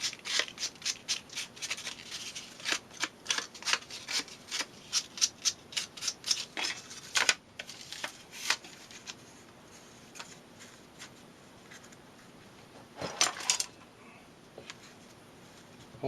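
A small piece of sandpaper rubs against a wooden model bridge piece in quick, rhythmic scratchy strokes, close and fairly quiet, stopping for a stretch before one more short burst.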